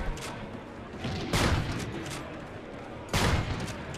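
Sniper rifle shots in a 1v1 video game sniper showdown: two loud, sharp cracks roughly two seconds apart over a steady background of game ambience.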